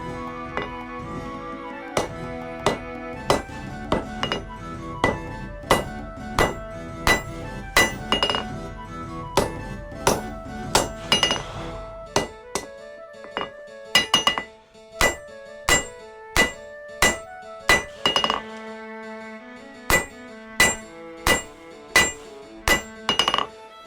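Hammer blows ring out on steel in a steady rhythm while forging a meteor hammer, sharp metallic clinks repeating close by, with a few brief pauses between strikes.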